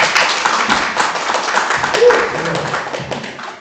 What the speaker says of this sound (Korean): 여러분 똑같은 마음에 박수 한번 주시죠 뭐